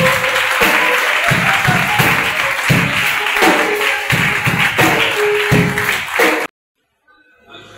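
Church congregation clapping together during a deliverance service, loud rhythmic claps in a steady beat with a crowd murmur beneath, ending abruptly into near silence.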